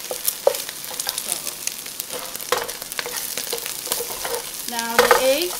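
Eggs and sausage frying together in a pan for Vietnamese shrimp fried rice, a steady close sizzle broken by frequent clinks and scrapes of a spatula, with a brief ringing metallic tap near the end.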